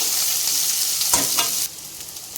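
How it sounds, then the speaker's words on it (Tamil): Onions sizzle loudly in a hot pan, a steady close-up hiss with a brief stirring scrape near the middle. "வெங்காயம் நல்லா வதங்கட்டும் கண்ணாடி பதம் வர்ற வரைக்கும் வதங்கினா போதும்"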